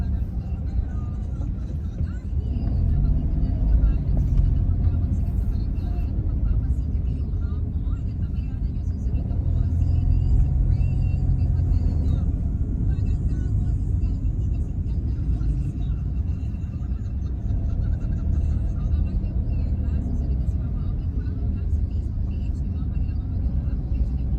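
A car cruises along a road on a road trip, its engine and tire rumble steady and close from inside the cabin, with people talking over the drive throughout.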